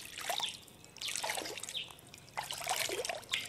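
Plain water poured and trickling into a bowl in a few separate splashing bursts, fairly quiet and close, with gurgling drips between pours.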